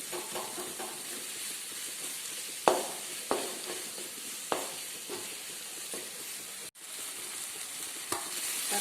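Tomatoes sauté in a pan while ghee rice is being made, a continuous gentle sizzle with occasional sharp clinks and scrapes of a spoon against the pan.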